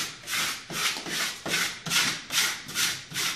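A wall decal transfer is rubbed down with firm, rhythmic strokes, about seven close scratchy passes in a steady back-and-forth pattern, with no voices.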